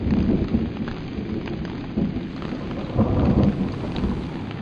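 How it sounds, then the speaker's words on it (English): A heavy thunderstorm: dense, steady rain roars throughout, with deep rolling rumbles of thunder swelling up at intervals. "It rained on the earth 40 days and 40 nights."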